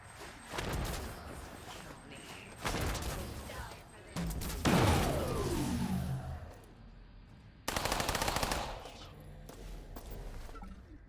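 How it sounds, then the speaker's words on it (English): Grenades are thrown into a room full of enemies in the System Shock Remake on its highest difficulty, setting off several loud, booming blasts in separate bursts, one followed by a ringing, falling whine. "This being throwing grenades into an enclosed room with enemies in it"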